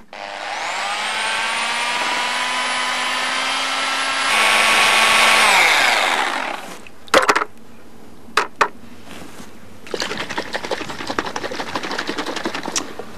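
A power tool stirs lime wash in a bucket, a steady whirring drone that rises in pitch and then winds down, followed by a few sharp knocks and a rattling, scraping mix.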